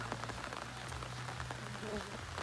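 Steady rain falls on a surface as a soft, even patter, with faint voices or noises underneath.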